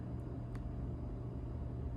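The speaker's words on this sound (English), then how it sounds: "I can hear the hum of traffic, cars driving past on the street below" Traffic drives past on the street below. It comes through as a faint, distant, low steady hum with no distinct passes standing out.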